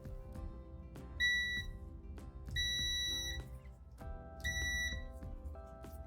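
A multimeter gives its continuity beep while testing a brass strip: three short, high electronic beeps, each lasting about a third to half a second, sound over a low background hum.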